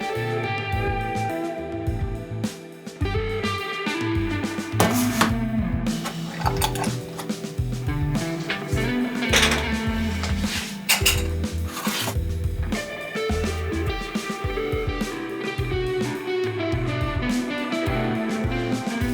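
Lids go onto a batch of glass jars of soft set honey, a close series of clinks, taps and scraping twists of metal against glass repeating with brief pauses throughout.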